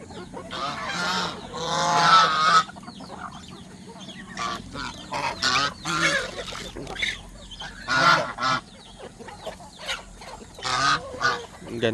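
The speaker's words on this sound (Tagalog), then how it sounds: "Gansa natin." A flock of farm geese honking repeatedly, loud harsh calls coming in uneven bursts with brief gaps between them.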